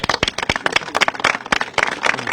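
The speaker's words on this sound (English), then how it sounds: "Give them a round of applause." Applause from a modest crowd at a political event on coal miners' pensions, with quick uneven claps from scattered hands close by, fairly loud and lasting a couple of seconds with no talk.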